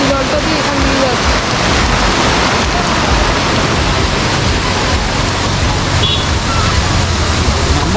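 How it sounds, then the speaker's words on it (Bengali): Water rushing through the Darjeeling rock garden, a loud, dense, continuous roar of flowing water filling the scene without pause. "এই যে জলটা দিয়ে এখান দিয়ে যাচ্ছে।"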